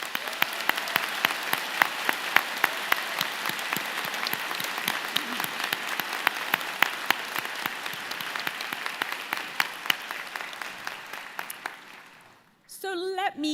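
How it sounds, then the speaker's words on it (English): Convocation audience giving a vigorous round of applause, many sharp individual claps blending into a long, steady ovation that fades near the end before a brief burst of microphone or room noise. "round of applause."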